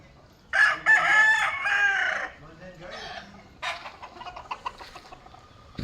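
A rooster crows loudly and close on a farm, then more crowing and clucking from several chickens in a tall-fenced chicken pen follows in short, overlapping bursts.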